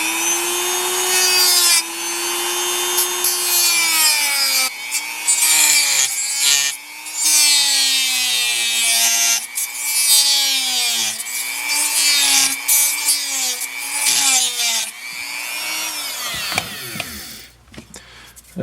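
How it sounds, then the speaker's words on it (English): A Dremel rotary tool cuts a part of a Tamiya Hornet RC car, a loud, close, whining grind whose pitch dips and rises as the bit bites into the material, running in sustained bursts with short pauses. "we are going to turn on the old Dremel tool here"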